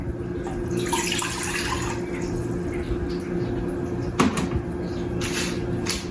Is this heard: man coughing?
no